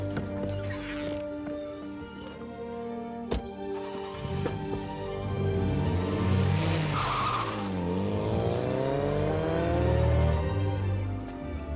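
Car skidding with squealing tires, a sharp impact followed by long wailing screeches that rise and bend in pitch over a rumbling engine, loud and close with no talk.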